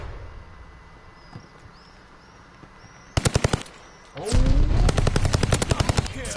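Gunfire in the video game Call of Duty: Vanguard: a quick burst of rapid shots midway, then heavier sustained automatic fire and explosive rattle, loud and close, with no talking.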